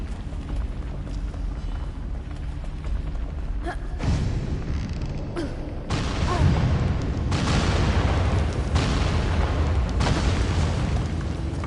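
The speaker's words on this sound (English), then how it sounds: "Light the fire, let it fall down. Then kaboom!" In the Skábma Snowfall video game, a burning cart explodes with heavy booming bursts and creaking that swell in sudden surges, layered over a continuous rumbling game soundscape.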